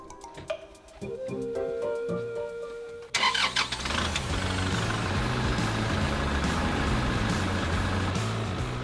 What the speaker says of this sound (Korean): 잠시 후 또 다른 농기계 앞으로 가는 부자농부.